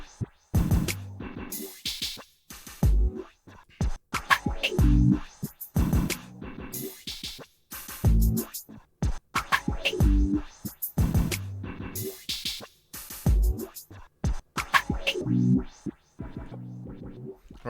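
A loud electronic melody made in FL Studio, chopped into stuttering, filtered bursts that repeat in a bouncy rhythmic pattern, with no voices.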